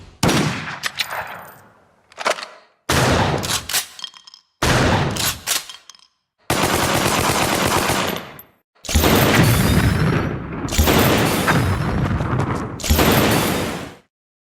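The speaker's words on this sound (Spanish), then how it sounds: "para armar el sonido de una shotgun" A series of loud, punchy video game shotgun blasts with metallic clanks in between, layered and close, like a shotgun firing and reloading.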